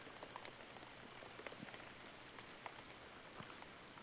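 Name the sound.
rain falling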